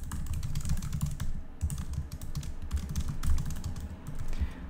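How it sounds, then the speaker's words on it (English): Fingers typing a reply on a laptop keyboard, a steady close run of soft key clicks with small pauses and a few heavier taps. "already I can type out a response"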